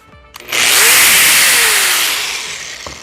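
A Bosch GWS17-125 1700W 5-inch angle grinder starts up with soft start, its whine rising gradually to a loud, steady high-pitched spin before easing off near the end, with no talking.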